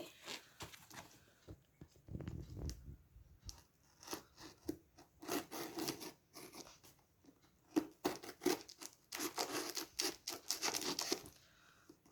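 A cardboard box holding green coffee is cut open by hand, with close scraping, rasping and tearing strokes that come in uneven bursts and grow busier toward the end.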